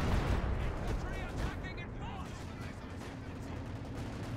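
A Stuka dive bomber attack in the Company of Heroes strategy game, with a dense rumble of explosions and gunfire, a rising and falling siren-like whine near the middle, and talking over the battle.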